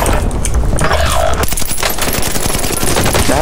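Rapid automatic gunfire rattles loudly in a first-person shooter, with an enemy firing from a rooftop, dense overlapping bursts of shots and a low boom at the start, and no voices.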